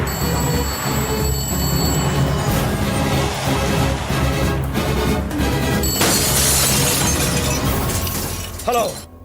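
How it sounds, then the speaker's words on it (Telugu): Glass shatters in a dramatic Telugu film scene, a loud crashing burst over a dense, busy background of music and effects, with a ringing tone earlier and a brief sliding sound at the end. "అద్దాలు కూడా బద్దలు కొట్టుకొచ్చేస్తున్నావంటే"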